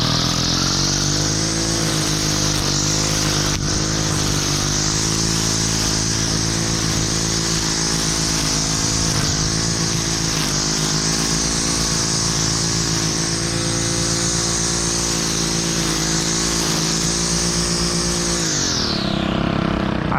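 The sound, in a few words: lawn mower running while mowing a lawn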